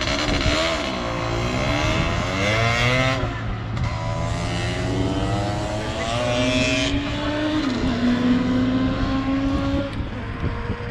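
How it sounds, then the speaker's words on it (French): A scooter on a track or street passes close by with a loud, rising and falling whine of a small engine, the pitch sweeping up and down as it revs and goes by. No talk. "c'était bien un scooter"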